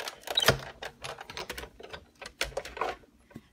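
Card paper is cut with a run of small, quiet, irregular snips and clicks along the edge, close and alone with no talking.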